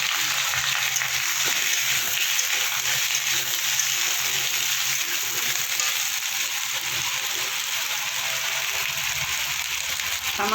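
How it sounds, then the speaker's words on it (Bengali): Potatoes fry in a small amount of oil in a pan while a fish curry is being made, giving a steady, even sizzle that runs unbroken at moderate loudness with no voices. "আলুটা এবার ভেজে নেবো"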